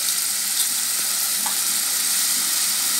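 Cumin seeds crackle and sizzle in hot oil after mustard seeds for a Marathi drumstick and potato bhaji, a continuous near hiss with faint stirring ticks and no speech.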